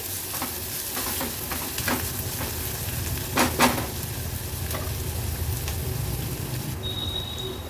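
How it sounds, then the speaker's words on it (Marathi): Chopped onion with crushed ginger-garlic frying over low-to-medium flame in a pan for a Maharashtrian veg thali, a steady close sizzle with occasional scraping stirs and a brief louder clatter midway. "गॅसची फ्लेम लो टू मीडियमवर ठेवून कांदा आपल्याला व्यवस्थित शिजवून घ्यायचा आहे."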